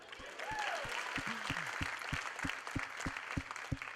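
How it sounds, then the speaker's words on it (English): Steady rhythmic clapping from an audience at a 4-H campaign rally, loud and regular, with a voice talking over the first part. "Sure, you can clap for that."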